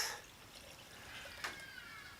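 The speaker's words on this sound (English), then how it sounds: "all we're basically going to be doing is pouring our rice water out" Rice water pours through a sieve, a faint, soft trickle and splash with one brief louder splash partway through.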